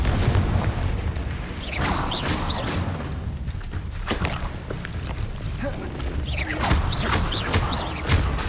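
Confringo explosion spells hit in Hogwarts Legacy, with repeated booming blasts and crashing impacts among busy, chaotic combat effects and scattered vocal sounds.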